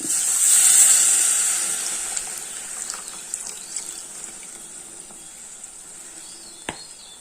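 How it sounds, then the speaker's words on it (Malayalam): Strained tamarind water poured into a hot pan for rasam sets off a loud gush and hissing sizzle that swells early, then fades into softer bubbling with a few small clinks near the end. "നമ്മൾ നേരത്തെ കുതിർത്ത് വെച്ചിരുന്ന ആ വാളംപുളിയുടെ വെള്ളം ഇതിലേക്ക് അരിച്ചൊഴിച്ചു കൊടുക്കാം"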